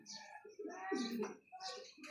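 Pigeons cooing nearby in soft, low, rounded calls, with chirpy bird notes mixed in and a voice speaking over part of it.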